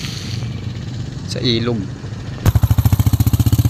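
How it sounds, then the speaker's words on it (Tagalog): A motorcycle tricycle roars past close by on a road near a muddy river after heavy rain, its engine pulsing loudly after someone speaks. "may dumadaan kasi ng tricycle dito"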